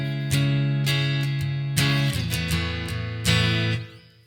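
A clean electric guitar plays a verse part, ringing chords and single notes struck in a loose rhythm with sustained, undistorted tones, close and clear.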